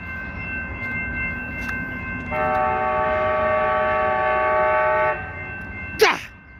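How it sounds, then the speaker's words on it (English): Amtrak San Joaquin 713 passenger train led by an SC44 Charger locomotive passing a crossing on Blackstone Avenue in Fresno, with a rumbling approach and a loud multi-tone horn held for about three seconds, then a sharp short burst near the end. "here comes San Joaquin train, 713"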